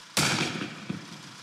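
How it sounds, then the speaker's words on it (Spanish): A single sharp, loud crack of a gunshot during street protests in a Chilean commune, followed by a fainter second pop as the sound dies away. "También hubo varios disparos."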